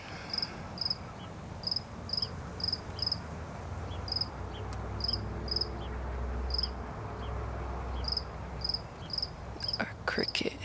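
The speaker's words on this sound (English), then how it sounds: "Our cricket is now comfortable." A cricket chirps steadily in short regular bursts, fairly faint against a soft background hum and rustle, with a few sharper clicks near the end.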